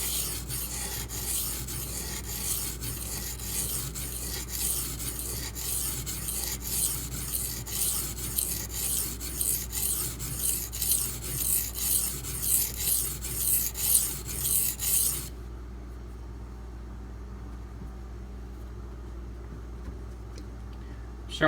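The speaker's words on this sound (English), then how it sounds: "Sharpening the other side so things don't get too far out of alignment. This is 240 grit after all." A D2 steel knife blade is stroked back and forth on a 240 grit sharpening stone, giving steady rhythmic rasping that grows stronger and then stops abruptly, leaving quiet room tone, with no talking.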